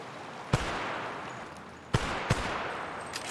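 An auto pistol fires in the video game The Outer Worlds, three distinct sharp shots spaced over a few seconds against a steady ambient hum, with fainter pops toward the end.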